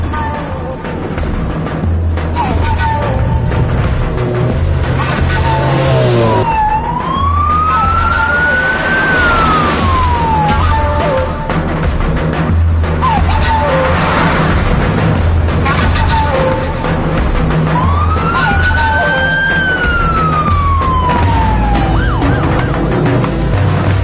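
An ambulance siren wails in two clear rising-and-falling sweeps, loud and close, over a constant roar of traffic and background noise in a busy street scene from a Turkish drama.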